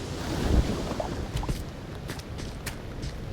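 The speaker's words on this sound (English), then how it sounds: "No, we're getting stormy weather." Stormy weather in the sky-island sandbox game Aloft, a steady gusting wind roar with a washing, surf-like rush and a few faint knocks, all at moderate level with no talking.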